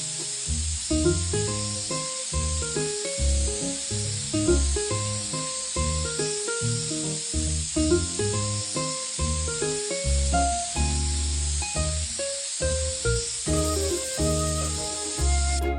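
A steady, sustained hiss of a spray gun applying high-gloss light blue paint to a Porsche 911 model's body runs throughout, with background music playing over it.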